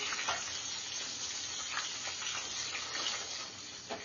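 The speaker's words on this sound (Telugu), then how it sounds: "అన్ని ముక్కలు ఇట్లా గోల్డెన్ కలర్ వచ్చే వేయించుకోవాలి మనము" Chicken lollipop pieces sizzle and crackle steadily in hot oil as they fry to golden colour, a dense, continuous close-up hiss with no talking.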